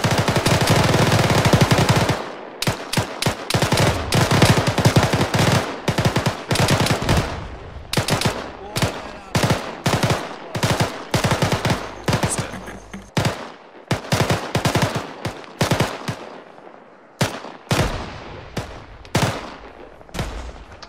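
Rapid bursts of automatic gunfire in Arma 3 crackle loudly and close, with dense volleys at first, then scattered shots and short bursts with brief gaps between them.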